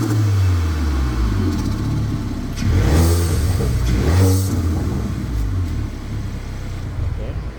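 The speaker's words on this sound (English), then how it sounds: "just give it a nice little rev and see how it sounds" A 2020 Hyundai Veloster N with its air filter removed, idling close by and then giving two quick revs that swell and fall back, with talking partly over the engine.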